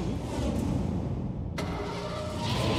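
A cartoon motorcycle engine starts and runs steadily with a low, rumbling drone, close and moderately loud, with a sharp click partway through and no talking.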